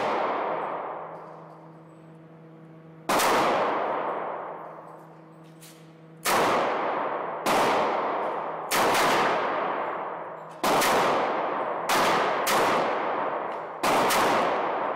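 A Smith & Wesson 386 Night Guard revolver fired at an outdoor range, with about nine loud, close shots spaced a second or two apart, each ringing out into a long fading echo.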